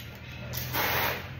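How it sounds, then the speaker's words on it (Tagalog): Water from a hose spraying onto a car during a wash, a steady close hiss that swells louder midway, heard alone without talk. "spray the water now."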